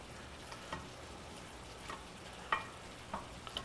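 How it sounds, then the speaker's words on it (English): A rice mixture simmers in a pan for a steak burrito, giving a faint, steady sizzle with a few soft ticks and pops scattered through it. "I'm just going to let that simmer down for another minute or two"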